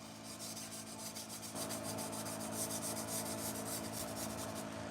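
Pet grooming shears sharpened against an abrasive, giving a steady close rubbing, rasping grind for the whole stretch, with a rhythmic scraping pulse that grows slightly louder partway through.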